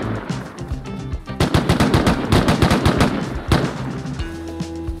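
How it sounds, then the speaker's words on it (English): AK rifle fire in the survival game Rust rattles out in rapid automatic bursts, loud and close, with short gaps between volleys and a lone shot near the end. "One AK's lit up the hill."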